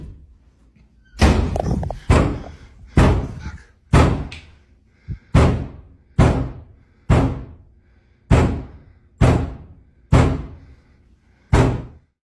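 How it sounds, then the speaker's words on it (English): Doors bang loudly in the rooms of a house: about eleven heavy, booming slams arrive one after another at a steady pace of roughly one per second. Each slam is close, hard and reverberant, with no talk between them. "doors start banging loudly in the rooms"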